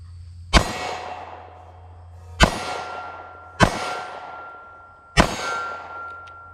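Four shots from a Taurus G2C pistol, each striking a steel target with a sharp metallic clang and a long ringing decay, spaced one to two seconds apart outdoors.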